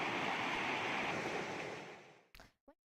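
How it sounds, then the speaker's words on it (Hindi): The Bagmati river overflows beside the Zero Mile dam in Bihar during heavy-rain flooding. The water makes a broad, steady rushing roar that fades away, followed by two short bumps. "बागमती नदी का जीरो माइल बांध के बगल से पानी ओवरफ्लो होकर के बह रही है।"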